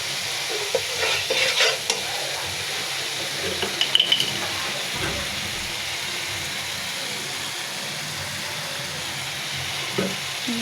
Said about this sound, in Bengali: পরিমাণ মতন মরিচের পাতা দিয়ে দেব, দিয়ে ভালো করে ভাজা ভাজা করে নেব।